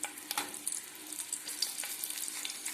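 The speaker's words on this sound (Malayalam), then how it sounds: "ഉപ്പിൽ പറ്റിച്ചു വെച്ച വെയിലത്ത് വെച്ച് ഉണക്കിയെടുത്ത പച്ചമുളകും വറുത്തെടുക്കുകയാണ്" Salted, sun-dried green chillies frying in hot oil, a steady close sizzle with crackling pops and occasional stirring scrapes, no voices.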